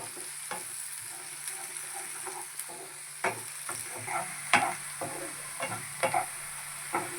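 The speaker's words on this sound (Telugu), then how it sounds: "కొంచెం వేయించుకుందాం." Onions and green chillies frying in a pan for a mushroom curry, with a steady soft sizzle under repeated scraping stirs of a spoon, close and moderately quiet, no talk.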